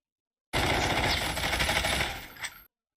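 Rapid automatic gunfire from Call of Duty Mobile rattles in one dense, loud burst lasting about two seconds, then cuts off abruptly.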